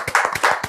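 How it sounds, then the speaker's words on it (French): Clapping from an audience on a couples' talk show, a short run of about six distinct, fairly close claps in a quick, slightly uneven rhythm. "on va applaudir pour vous encore."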